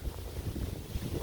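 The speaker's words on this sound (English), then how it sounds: "Sorry about the wind" Low, rumbling wind buffets the microphone steadily throughout in an old dairy field, a continuous muffled roar with gusty swells and no voices.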